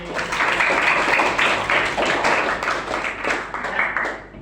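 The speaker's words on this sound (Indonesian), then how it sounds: "Tepuk tangan lagi." A classroom of students claps their hands in unison, a brisk, fairly loud round of applause that runs steadily for several seconds with slight uneven pulses and then eases down.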